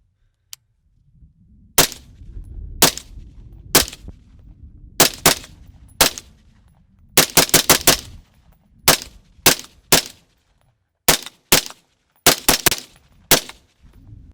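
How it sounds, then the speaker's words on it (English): Suppressed rifle shots at a freezing cold outdoor range, fired as sharp loud cracks in irregular bursts of single shots and quick doubles and triples, with short echoing tails between them. "Just gonna do some shooting"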